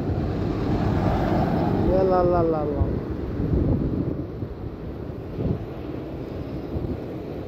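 Wind blows outdoors in Saudi Arabia, buffeting the microphone with a loud, continuous low rumble. A brief tonal voice-like sound rises over it near the middle, then the gusty roar carries on to the end.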